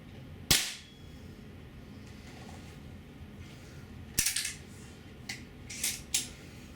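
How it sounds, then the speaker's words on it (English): A Beeman P1 .22 caliber air pistol fires twice: a sharp, loud crack near the start, then a second crack a few seconds later followed by a few smaller clicks and clatters, with no talking. "somehow the second shot is not as loud as the first one"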